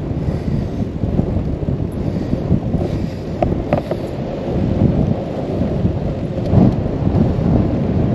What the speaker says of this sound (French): j'ai un vent du nord là qui me ralentit bien